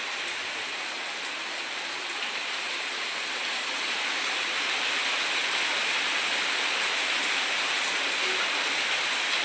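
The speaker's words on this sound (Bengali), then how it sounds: "খুব যে ঝমঝমিয়ে বৃষ্টি হচ্ছে সেটা নয়, তো আবার মিডিয়াম হচ্ছে বৃষ্টিটা।" Medium rain falls steadily, a dense, even wash of patter that holds at the same moderate loudness throughout, with no voices.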